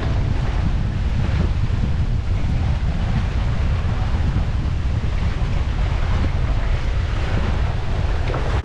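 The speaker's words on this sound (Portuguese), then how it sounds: "Hoje está ventando bastante." Strong wind blowing on a pier at Lake Paranoá in Brasília, a loud continuous roar buffeting the microphone with deep rumbling and steady hiss throughout.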